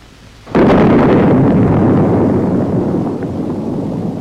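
A Bullpup air-to-surface missile strikes its target with a sudden heavy blast that rolls on as a loud, sustained rumble over several seconds.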